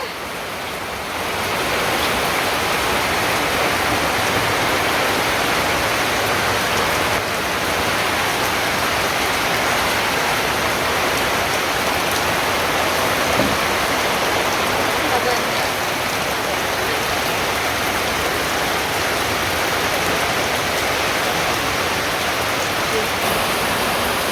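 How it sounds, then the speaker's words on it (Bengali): Steady rain falls after a storm in a rural village, a dense, even hiss of drops on surfaces holding at a constant level throughout with no other sounds standing out. "ঝড়ির পরে বৃষ্টি নেমে গেছে।"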